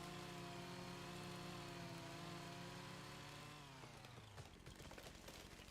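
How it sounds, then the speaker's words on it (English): A chainsaw with a faster-cutting mod runs through a tree in a farming video game, its steady, loud engine drone holding for several seconds before dropping in pitch and cutting off near the end. "Oh, this is a faster chainsaw mod."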